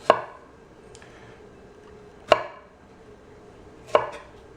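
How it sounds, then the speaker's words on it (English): A knife cuts through strawberries on a board, three crisp, separate chops spaced about two seconds apart in an otherwise quiet room. "we just cut the top off, and then you could just slice them"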